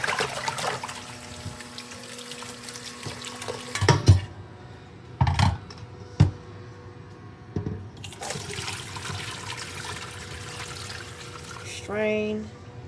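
Soaked lemongrass strained under running water, a steady pouring and splashing stream with a few sharper clatters and bursts, some talk mixed in.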